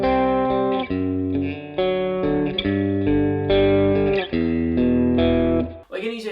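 Distorted electric guitar picks through a chord part, a steady, sustained, heavily driven tone with an effects-laden sheen, close and loud, ending in a brief scrape.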